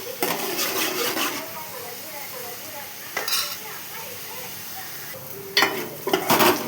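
Ginger and turmeric fry in a pan until golden while a spoon stirs and scrapes against the metal in bursts, over a soft sizzle, with a person talking throughout.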